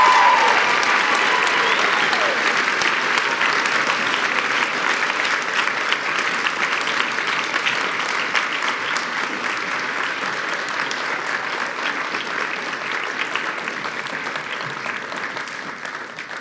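Sustained applause from an awards-ceremony audience honoring scholarship winners and runners-up, a dense steady roar of many hands clapping that fades slightly toward the end, with a voice briefly heard under it.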